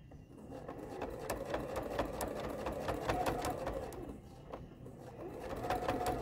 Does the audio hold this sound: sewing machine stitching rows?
yes